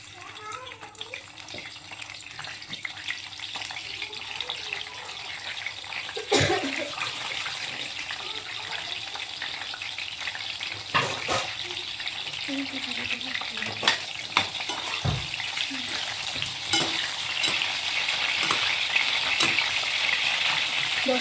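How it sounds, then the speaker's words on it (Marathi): Brinjal (eggplant) pieces frying in hot oil, a soft continuous sizzle with occasional sharp pops and clatters of a utensil, building slightly louder toward the end, with a voice talking at times. "आता हे गरम झालं आहे तेल, त्याच्यामध्ये टाकणार आपण वांगी"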